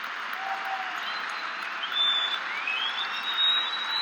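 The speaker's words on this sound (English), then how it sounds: "Barry Davis getting a nice round of applause" Crowd at the 2018 NCAA wrestling championships applauding Wisconsin Badgers head coach Barry Davis, a steady wash of clapping that holds for several seconds, swelling slightly midway, heard from a distance across a large arena.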